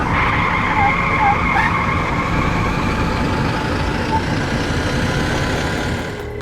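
A car skids on the road in a tense street confrontation, a loud sustained screech with engine roar that holds steady for several seconds and fades slightly at the end.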